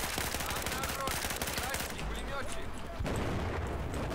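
Rapid full-auto gunfire from a rifle in Battlefield 4 rattles loud and close in dense bursts, briefly easing before another volley, with a voice talking over it.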